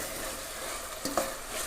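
Ginger-garlic paste frying in a pan for a mushroom gravy gives a soft, steady sizzle, with a brief spoon-stirring scrape near the end, fairly faint and close.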